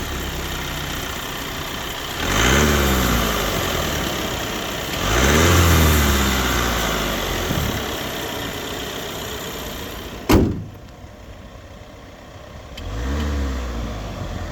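A four-cylinder Audi Q 2.0 TDI diesel rated at 204 hp idles and is revved three times in rising and falling sweeps, with a sharp click between the later revs.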